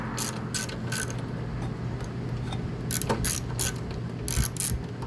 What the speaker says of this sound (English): just take that extension right off the ratchet, use it like a screwdriver